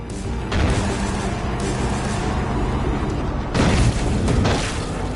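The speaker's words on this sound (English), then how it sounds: "Our hero hits the jump and wham! There's an explosion!" An explosion in the video game Far Cry 5's zombie mode: a loud, rumbling boom with two broad blasts, one early and a heavier one about three seconds later, filling the whole clip.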